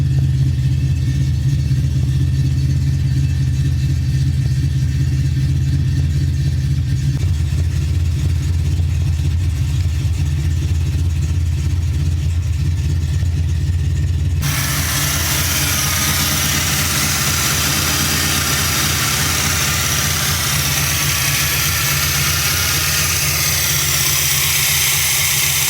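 A car engine fitted with an EFI conversion runs steadily at idle, a loud continuous low rumble close to the microphone, with the tone brightening partway through.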